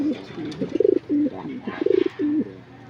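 Pigeons at a nest with eggs give soft, close coos, a few repeated rolling phrases with short gaps between them and no talk.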